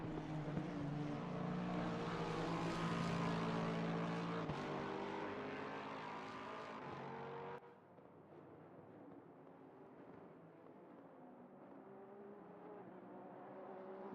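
A Honda NSX engine drones steadily through a qualifying lap at Monza in a racing video game, faint and fairly distant, with shifting pitch and a sudden drop in level partway through.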